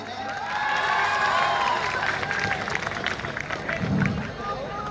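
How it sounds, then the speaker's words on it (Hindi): A college farewell crowd cheers and claps for fourth-year girls, loud mixed shouting and applause swelling early and staying busy, with voices and babble throughout. "फोर्थ ईयर गर्ल्स के लिए एक बार जोरदार तालियां हो जाएं"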